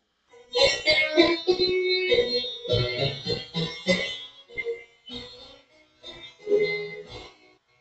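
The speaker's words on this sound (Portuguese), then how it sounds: "Esse é o som do cravo." A harpsichord plays a lively passage of bright, plucked notes in quick succession, close and clear, with no voices.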